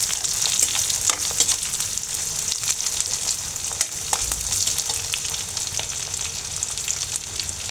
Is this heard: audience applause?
no